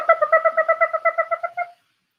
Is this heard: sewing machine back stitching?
no